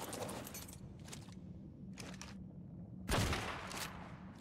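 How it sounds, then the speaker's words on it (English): Gunfire in the video game ARK Genesis, aimed at a bat: a few separate bursts of shots spaced about a second apart, then a louder, denser volley near the end over a steady low game ambience. "I might want to try to shoot that bat"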